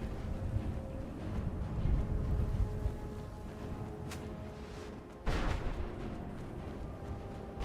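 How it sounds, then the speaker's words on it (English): Enemy gunfire aimed at the player in Skyrim Dawnguard, heard as a dull rumbling barrage with a couple of sharp cracks and a heavy boom near the end, moderately loud, no voices. "I don't know who's shooting at me."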